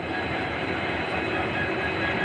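A loaded freight train at Gopinathpur station rumbles past in a steady, moderately faint rolling drone of wagons on the rails, with no voices.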